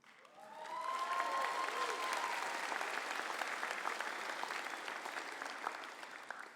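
Graduates clap for themselves at a graduation ceremony, a broad wash of crowd applause that swells in within the first second and carries on evenly, moderately distant, with a faint tonal sweep near the start.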